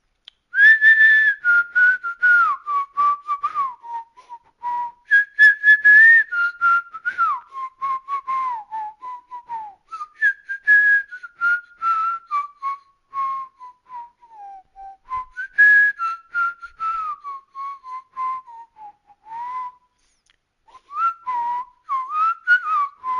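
A person whistles a song as a clear, solo melody of rising and falling phrases, close and loud, with short gaps between phrases and no talking.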